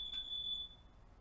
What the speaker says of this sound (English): I've never actually run through the fire alarm here before.